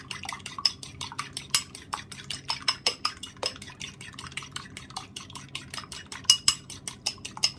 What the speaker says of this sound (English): so I'm just going to mix it up like that